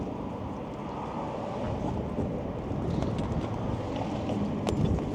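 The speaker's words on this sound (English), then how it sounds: "Oh, it's getting windy." Wind blows outdoors in a continuous rushing roar that buffets the microphone, with gusts swelling slightly louder toward the end and no talking.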